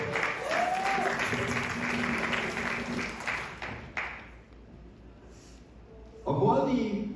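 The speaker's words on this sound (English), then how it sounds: "You could give God a round of applause for that." Church congregation at a youth service clapping for several seconds, then fading into quiet before a burst of voices and noise at the end.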